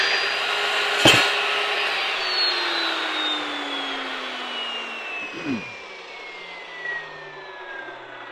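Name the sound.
saw with carbide tips cutting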